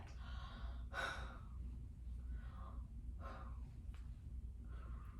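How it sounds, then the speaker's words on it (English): A patient takes deep breaths during a lung exam, several quiet, close inhalations and exhalations at a slow, steady pace against low background hum. "Go ahead and take a deep breath."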